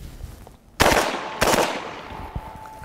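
Two sharp, loud UMP45 shots with incendiary ammunition strike steel targets at close range, each crack ringing off the metal with a decaying tail, followed by a fainter knock.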